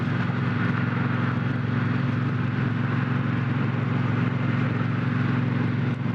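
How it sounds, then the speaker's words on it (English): A Triumph Bonneville Bobber motorcycle engine running while riding, a steady loud low drone with a deep throbbing hum that holds constant throughout, with no speech. "And if this is stock, this is a fantastic sounding stock bike."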